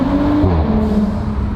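A B9 Audi S4 fitted with an aftermarket downpipe rumbles close by, its exhaust giving a deep steady drone that briefly rises in pitch before settling, with no talking over it.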